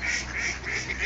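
Ducks on a small, unfrozen city river in winter give a continuous, close honking quack over a loud, washed-out outdoor background.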